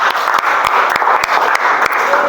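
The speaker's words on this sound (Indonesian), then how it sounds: "tepuk tangan untuk Hafid Haidar." A classroom group claps for a student, the applause brisk and close with a few sharper individual claps standing out.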